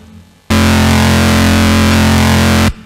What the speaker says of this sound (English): So whole load of distortion,